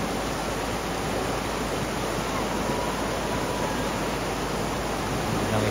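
A swift river current at Koto Rawang, Pesisir Selatan, West Sumatra, rushes in a loud, unbroken broadband roar throughout, close and steady with no voices heard.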